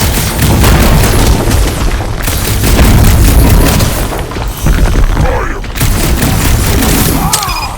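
Continuous booming explosions and crackling blasts from Marvel's Guardians of the Galaxy gameplay roar loudly throughout, dense and chaotic, with voices shouting over the barrage.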